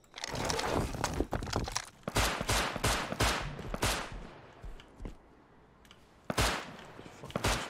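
Video game gunfire comes in separate loud bursts and single cracks, some spaced apart, with quieter stretches between them and a final burst near the end.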